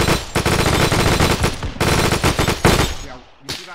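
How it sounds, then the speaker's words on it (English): Loud, close bursts of machine gun fire in Arma 3, fast rhythmic rounds in long strings broken by short pauses, ending with a final brief burst. "Copy that, I'm setting up MG here"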